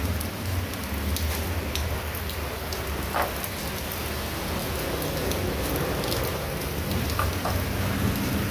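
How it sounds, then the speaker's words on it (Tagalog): Rain falling steadily outdoors, a dense, even hiss of drops hitting surfaces with a few sharper patters, continuous and fairly loud, no one speaking. "Okay, umuulan."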